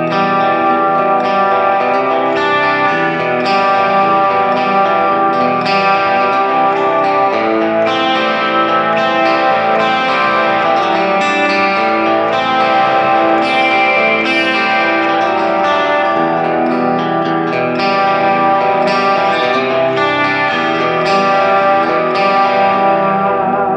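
A sustained electric guitar rhythm part played through an Axe-Fx III with modulation and echo effects, steady and loud throughout, with shimmering chorus and a lightly driven tone, no voices.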